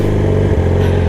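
A Yamaha R6 sport motorcycle engine runs close and loud, a brief steady drone with a slight dip and change in pitch midway, without any talking.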